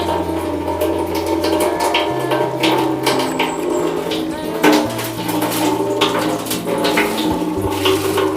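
Running water splashes and pours steadily, with clattering of containers and a few faint voices in the background.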